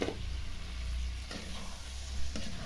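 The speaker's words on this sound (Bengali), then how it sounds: "এখন দিয়ে দেবো সিদ্ধ করা পাস্তা" Boiled pasta tipped into a pan of spices frying with ground cumin, garam masala and coriander: a steady, close, loud sizzle with stirring scrapes and a soft bump near the end.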